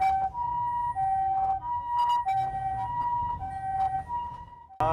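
Ambulance siren wailing loudly and close, a repeating two-tone pattern that rises and falls steadily, followed by a brief abrupt noise at the end.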